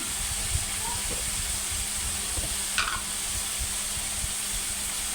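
Taro pieces poured into hot oil in a pan set off a steady, fairly faint sizzling hiss, broken by a few light stirring knocks and scrapes.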